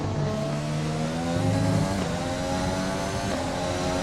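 A Honda Formula 1 racing engine in the F1 2020 video game holds a loud, steady high-pitched whine with layered harmonics and small pitch shifts, heard on its own without talk.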